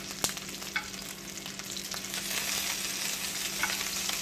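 Sausages sizzle and brown in a pan with a constant crackling hiss. A few distinct taps and pops break through, and the frying grows slightly louder partway through.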